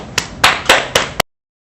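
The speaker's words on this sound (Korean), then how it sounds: "큰 박수로 맞아주시기 바랍니다." Brief applause from a breakfast forum audience welcoming a lecturer to the stage, a few loud clustered bursts of clapping over about a second before cutting off abruptly.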